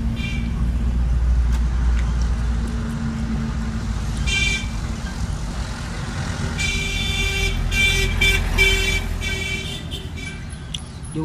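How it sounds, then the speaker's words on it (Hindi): A tempo vehicle's horn honks twice as it overtakes on a busy road, the tones rising over steady close traffic rumble and engine noise. "उसने टेम्पो वाले ने आपको जब ओवरटेक किया तो क्या कर रहा था, वो हॉर्न दे रहा था"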